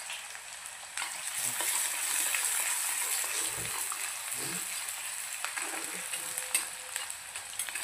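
Lentils being dry-roasted in a pan for rava upma, a steady close sizzle with scraping stirring noises and a faint voice in the background.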